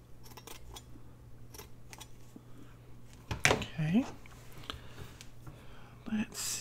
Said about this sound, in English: I'll just cut this flower out right here and put that up there.